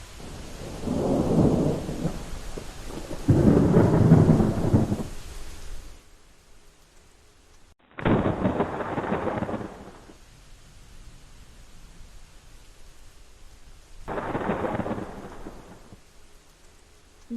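Heavy rain pours steadily while thunder rolls in long, loud rumbling waves, with a few sharper cracks and quieter stretches of rainfall between them and no voices.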